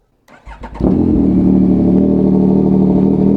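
A Yamaha MT-09 motorcycle cold-starts up close: a brief cranking whir, then the engine catches with a sharp rise and settles into a loud, steady idle rumble.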